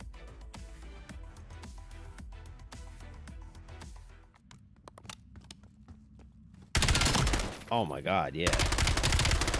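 Gunfire in a first-person shooter game, with rapid bursts of shots in the first half, a quieter stretch, then loud sustained firing near the end, while a player speaks briefly.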